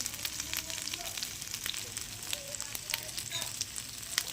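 Fish with turmeric stirred in a frying pan, a continuous soft sizzle of hot oil with faint scraping movements, close but quiet throughout.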